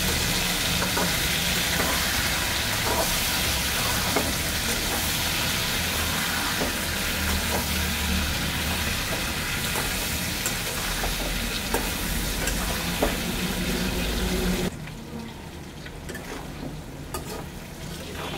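Chopped tomato and green chilli fry in a pan with a continuous loud sizzle and occasional stirring clicks, dropping abruptly to a quieter hiss near the end; no one speaks.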